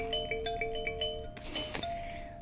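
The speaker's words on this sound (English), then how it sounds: "It sounds like a wind chime." Bright chiming tones ring out like a wind chime, a rapid series of clear pitched strikes that blur into a shimmering wash before one longer ring sustains alone.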